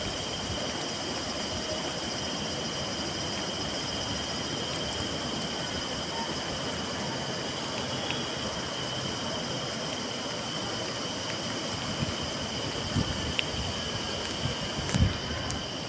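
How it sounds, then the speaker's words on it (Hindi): Steady rain pours onto a road in Dharchula, a dense continuous hiss filling the background with a few faint sharper taps near the end and no talking. "बारिश भी आई गई है"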